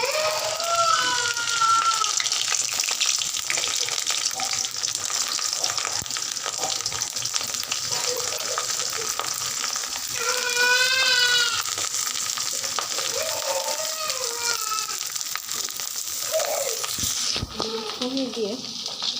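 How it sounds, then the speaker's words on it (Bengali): Food frying in a pan over a gas stove, a steady, close sizzle and crackle running throughout, with someone talking over it and a brief clatter near the end. "তো আমি এখন এগুলো ভেজে নিব।"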